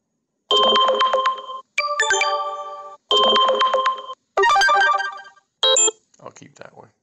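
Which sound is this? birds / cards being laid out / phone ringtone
phone ringtone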